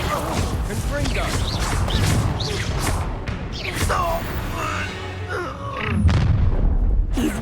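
Confringo blasting spell explosions in Hogwarts Legacy combat: a string of loud, booming blasts and crashing impacts with whooshes, layered over voices and busy game sound throughout.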